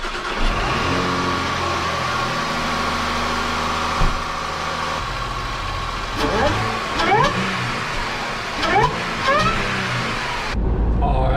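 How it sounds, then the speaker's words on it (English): Saab 9-5 Aero with a Maptun exhaust starting cold, the engine catching and settling into a throaty idle, then several short revs rising and falling before it stops, close and fairly loud. "so you just got a cold start"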